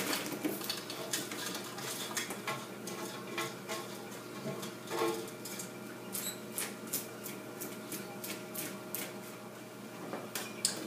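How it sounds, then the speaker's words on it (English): Caramel-coated popcorn gets a last stir in a pot, with rapid irregular scraping and clinking of a utensil against metal and sticky kernels shifting, close and steady throughout. "So now I'm going to go ahead and give it one last final stir."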